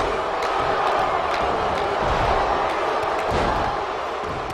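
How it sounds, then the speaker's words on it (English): WWE 2K19 wrestling arena crowd chants "Uso" and roars in a continuous loud swell, with faint commentary voices beneath the noise. "Talk about this crowd, hearing a lot of Uso chants"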